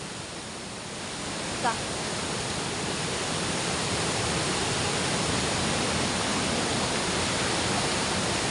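Swollen, overflowing Kottappuzha river rushing past nearby, a dense, unbroken roar of flowing water heard alone at steady loudness.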